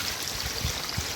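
Water running over a chicken back being washed with salt during cooking, a brief soft trickling splash, close and alone.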